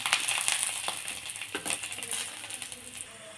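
A lump of asafoetida and garlic cloves fry in hot oil, a close crackling sizzle with scattered sharp pops that gradually settles toward the end.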